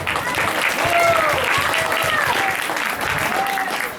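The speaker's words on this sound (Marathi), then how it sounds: "पुन्हा एकदा टाळ्या आपल्या रायझिंग स्टार मुलांना" An audience at a Marathi school Diwali program applauds child performers with loud, sustained clapping that fills the hall without a break.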